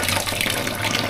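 Tap water running in a tiled campsite comfort room at Camp Marilaque in Tanay, Rizal, a steady close splashing flow that holds evenly throughout with no talking.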